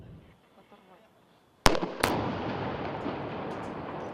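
Two sharp blasts from a building demolition in quick succession break a quiet stretch, followed by a loud, sustained rumble of debris and noise that carries on to the end.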